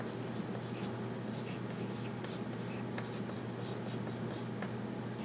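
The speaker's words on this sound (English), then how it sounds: "So I'll even write that down," Marker or chalk writing on a board while noting angular velocity, heard as faint, soft strokes and rubs over a steady low room hum, with no voices.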